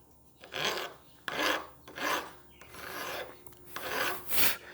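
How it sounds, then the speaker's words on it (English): A hand file rasps across a metal fork cap from a vintage dirt bike, taking down a deep gouge in five long, even, close strokes with brief pauses between them. "let's take a couple of passes with this file and get this big gouge here down first"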